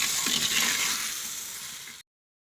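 Chili powder masala frying in a pan for a village-style greens-stem and dried fish curry, a close, steady sizzle with a faint scrape of stirring, cutting off abruptly after two seconds.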